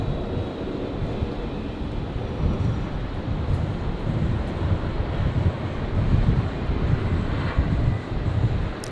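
An Emirates Boeing 777 heavy jet at Brisbane International Airport at night gives a low, rumbling engine roar that swells and fades unevenly, mixed with wind buffeting on the microphone.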